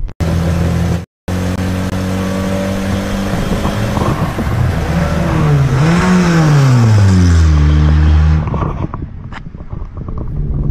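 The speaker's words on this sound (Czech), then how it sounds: "Slyšíte ten motor?" A car engine idles, then revs up and down in a few rising and falling swells before fading, close and loud.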